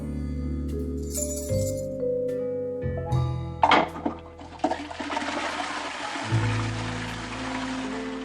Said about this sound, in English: Is somebody flushing contraband?